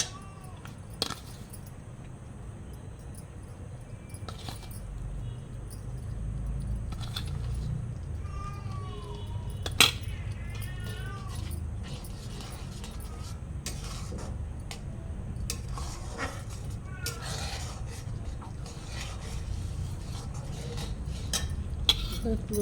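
Rice and coconut mixture for nadu is stirred in a pan, making soft scraping with intermittent metallic clinks and taps of the utensil over a low, steady background.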